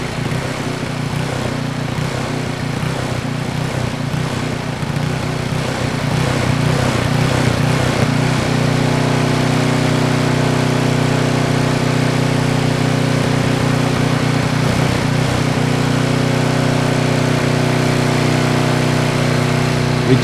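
A Tecumseh small engine runs at high speed with no voices, a steady loud buzzing drone that rises and settles into an even, higher-pitched tone partway through.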